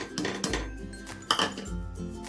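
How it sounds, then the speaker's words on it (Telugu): Grated dried coconut being roasted in a pan for a Telugu sweet: repeated metal clinks and scrapes of a spoon against the pan, with a few louder knocks, close and steady, with no talking. "తీసుకొని మనం బాగా వేయించుకోవాలి ఇలాగా ఇలా వేయించుకోవాలండి"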